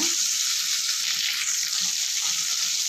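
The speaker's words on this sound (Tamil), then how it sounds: "ஒரு பச்சை மிளகாய், ஒரு வரமிளகாய், கொஞ்சமாக கருவேப்பிலை, இது எல்லாமே போட்டு நல்லா வதக்கலாங்க." Green chili, dried red chili and curry leaves sizzle loudly and continuously in hot oil, a close, dense frying hiss with faint stirring beneath and no talking.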